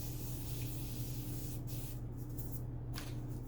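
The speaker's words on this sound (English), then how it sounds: "I'm just going to start my face with this Beauty Bakery Sweet Grace setting spray." Beauty Bakery Sweet Grace setting spray misted onto a face, a steady close hiss lasting several seconds with brief breaks near the end, no voices.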